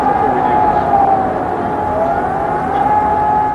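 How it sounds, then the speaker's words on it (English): Air raid sirens in Amman, Jordan: a loud, steady wailing siren slowly rises and falls in pitch, sounding continuously and unaccompanied. "air raid sirens sounded at midday"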